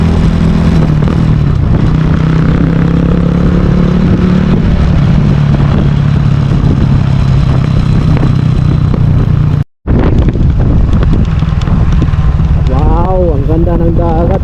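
A strong seaside wind buffets the microphone in a loud, continuous roar, with traffic and an engine hum beneath it and a brief dropout partway through.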